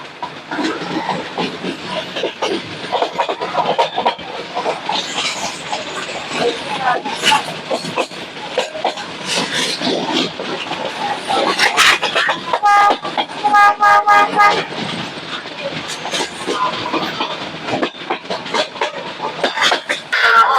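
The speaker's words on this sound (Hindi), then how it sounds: "अपनी इस ट्रेन का फाइनल कर्व, क्योंकि इसके बाद तो हम पहुंच जाएंगे मैलानी जंक्शन।" Meter gauge passenger train running on a final curve near Mailani Junction, heard from on board as a steady loud rumble with rhythmic clickety-clack of wheels, hissing, and squealing wheel-flange tones midway through.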